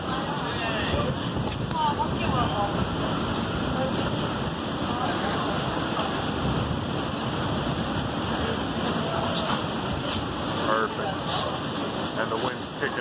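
Strong wind of about 35 mph gusting around a flag being raised atop the Space Needle in Seattle, a constant rushing roar across the whole stretch.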